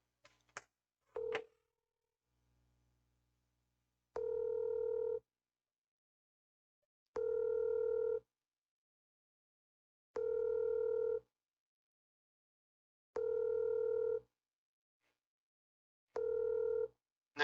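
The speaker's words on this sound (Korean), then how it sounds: "전화 연결해 보겠습니다." A telephone ringback tone sounds as a call connects: after a few brief clicks, five evenly spaced tone bursts of about a second each repeat with short silent gaps, clear and alone.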